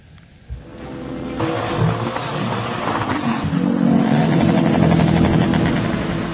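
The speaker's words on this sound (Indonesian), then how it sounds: "Ratusan anggota perguruan silat berkendara dengan knalpot brong dan ugal-ugalan di Tuban" A convoy of hundreds of motorcycles with loud brong aftermarket exhausts passes in Tuban, East Java, their engines revving into a dense, roaring blare that swells after a quieter start and stays loud to the end.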